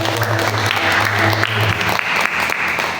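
A church congregation at an evening service breaks into loud, steady applause that fills the room for several seconds, with faint voices mixed in.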